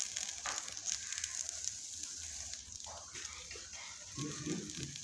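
Dosa-style batter pancake with onion, tomato and coriander mixed in, frying on a hot pan to golden brown, giving a steady soft sizzle with faint crackles throughout, loudest near the end.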